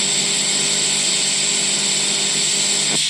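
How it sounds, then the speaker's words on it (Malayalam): MIG welding on a beginner's joint, laying the weld in small drops: a steady, loud crackling hiss runs without a break for about three seconds, then cuts off sharply near the end. "എപ്പോഴും ഇതുപോലെ ഇങ്ങനെ ഒരു ഡ്രോപ്പായിട്ട് വെൽഡ് ചെയ്യുക."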